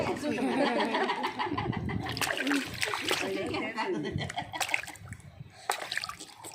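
Water flows and splashes in irregular bursts and sloshes, close by, while people talk over it.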